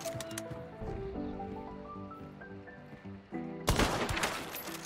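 A single sharp Mosin Nagant rifle shot in Hunt: Showdown rings out near the end, following a stretch of musical tones and ambient rustle, its loud burst trailing into broadband noise.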